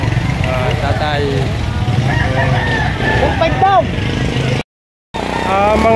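Roosters crow over a dense crowd murmur at a chicken auction in Lipa, several calls rising and falling through steady background noise, with a short silent break near the end.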